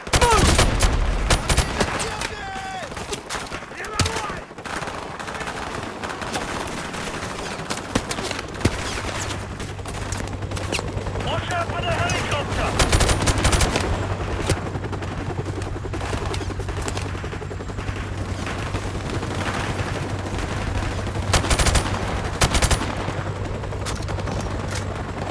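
Gunfire in Call of Duty Modern Warfare Remastered, with dense rapid bursts of automatic fire and scattered single shots crackling over a low rumble across a long firefight, loud and close, with shouted voices at times.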